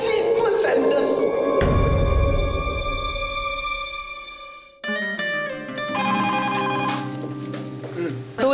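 A telephone rings with a repeated electronic bell tone that fills the clip alongside music and a brief stretch of voices, loud and close.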